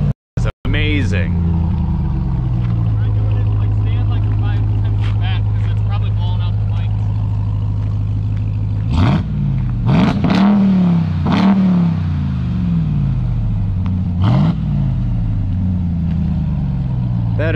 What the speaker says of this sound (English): That is an unbelievable raw V8 sound.